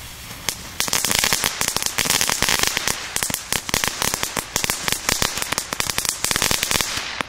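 Cheap Lidl firecracker ribbons go off in a long, rapid chain of sharp, loud cracks and bangs, dense and relentless after a brief pause at the start, with no voices.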